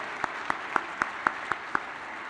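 Seven sharp, evenly spaced claps ring out at a gala, a sparse single-person clapping rhythm rather than full crowd applause, fairly close and alone.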